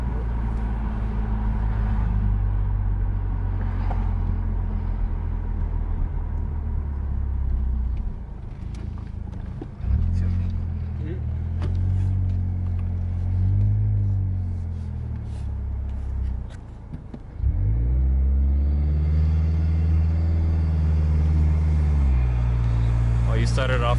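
A 2022 Mazda3 turbo fitted with an aftermarket intake and exhaust pulls through rising engine tones, with turbo spool and gear changes, the engine note dropping and climbing again. People talk in the car over it.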